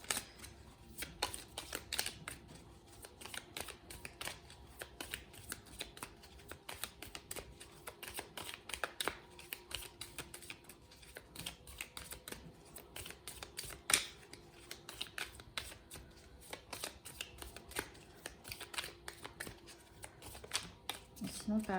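Tarot cards being shuffled in repeated soft riffling bursts, steady and close throughout, with occasional sharper clicks.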